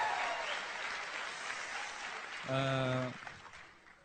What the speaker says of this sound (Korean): please give me a big loud round of applause.